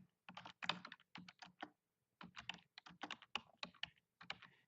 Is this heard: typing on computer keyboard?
yes